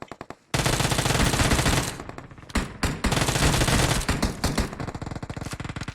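Loud rapid automatic gunfire in the battle royale game PUBG Mobile, long close bursts broken by short pauses, with a few single shots and a faster rattle toward the end.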